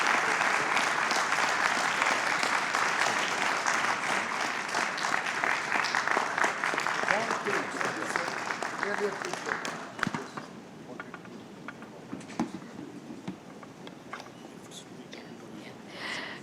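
Audience applause after a minister's inaugural address at the Asia Economic Dialogue 2025, a dense hall-filling round that thins out partway through into scattered claps and faint murmuring.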